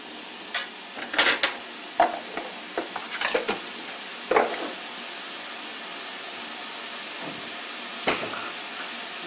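Aged kimchi and chopped green onion being stir-fried for a somen noodle dish, a low steady sizzle broken by scattered scraping stirs of the spatula against the pan, close and moderately loud with no talking.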